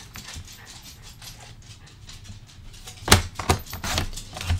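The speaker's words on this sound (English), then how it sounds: "You probably hear Penny and Zeus running around." Two dogs scampering around inside a house, their paws padding and skittering in bursts that grow louder and busier toward the end, with a few sharp thumps.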